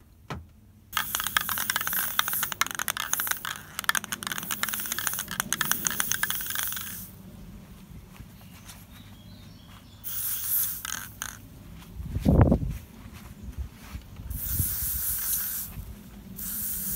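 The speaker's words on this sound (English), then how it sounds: "So I'm going to spray these all over." An aerosol spray paint can hisses in several bursts as model railway wagons are sprayed, with a rattling shake between sprays and a sharp knock midway, close and fairly quiet.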